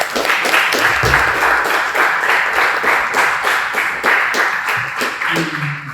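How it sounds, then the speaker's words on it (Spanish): Audience applause after a talk at a youth gathering, loud and steady with rapid dense clapping throughout and a few sharper claps standing out. "amos a darle muchas gracias a Sebas, a Beto, un aplauso por favor."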